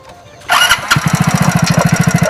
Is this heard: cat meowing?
no